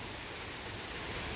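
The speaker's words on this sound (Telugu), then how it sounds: "వర్షం ఎప్పుడు 11:30 నుంచో 12 గంటల కంచో తెగ పడతా ఉంది." Heavy rain at night hisses as a dense, even wash of noise that fills the short stretch. It sounds close and unbroken, with no voices.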